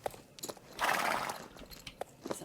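A horse in the video game Star Stable runs with soft clip-clop hoofbeats, and a whinny swells briefly in the middle, all fairly quiet with no talking.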